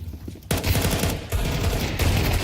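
Rapid Counter-Strike gunfire rattles in dense bursts, loud and close, including a scout sniper rifle shot amid the competitive match's sustained firing.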